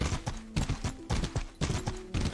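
Rapid clip-clop of a ridden horse's hooves in the video game Mordhau, a quick repeating galloping rhythm of close, punchy strikes running through the whole clip.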